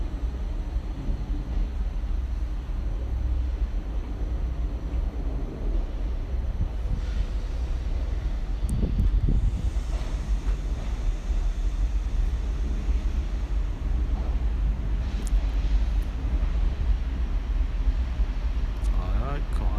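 An Alstom Coradia train pulls out of Paris Gare de l'Est at rush hour, a steady low rumble and rolling rail noise with a few metallic clanks and squeals, while people talk nearby.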